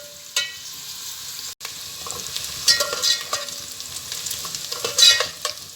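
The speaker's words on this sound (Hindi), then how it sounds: "प्याज हम जो है वो ब्राउन कर रहे हैं। आपने चम्मच इसमें हिलाते रहना है कि कहीं प्याज जल ना जाए।" Onions for mutton korma sizzle steadily while browning in a pan, with a spoon scraping and stirring in repeated bursts, close and clear with no talk.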